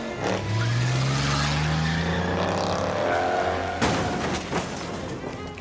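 Car from the video game Shadows Over Loathing hauling a vault door through the street, engine revving up in a rising whine with tire noise, followed by a heavy impact and rattling debris.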